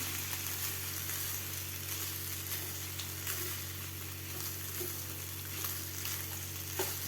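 Lemon rice being mixed with fresh lemon juice in a pan, a steady soft frying sizzle running throughout with faint scraping of stirring, no voices.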